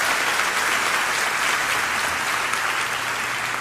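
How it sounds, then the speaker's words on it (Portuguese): Steady applause from a church congregation, dense and continuous clapping filling the whole stretch at an even level. "dá uma salva de palmas aí"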